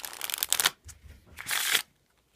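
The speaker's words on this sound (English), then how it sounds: "shuffle up the deck" A deck of playing cards riffled and shuffled in two bursts, a short close crisp flutter followed by a longer one after a brief pause, with no talking.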